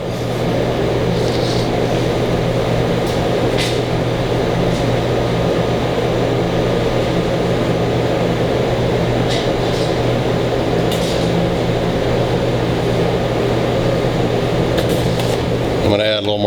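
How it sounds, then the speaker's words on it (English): Blender running steadily to grind jalapeno hot sauce, a continuous loud motor whir with a steady hum throughout, nearby and unbroken. "As it grinds more and more stuff finer, the sound and the tone of the machine gets a different pitch to it."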